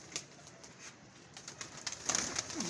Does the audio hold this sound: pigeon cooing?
yes